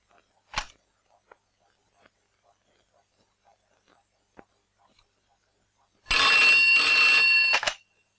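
A telephone bell rings in one sustained burst near the end, loud and close, after mostly quiet room sound with a few faint clicks and taps.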